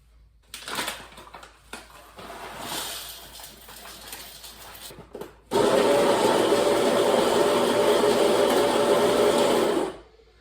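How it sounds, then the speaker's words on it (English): Coffee beans ground in an electric grinder for about four seconds, a loud steady whirring drone that starts abruptly and stops cleanly, preceded by quieter kitchen clatter and handling noise. "Now I have to grind the beans."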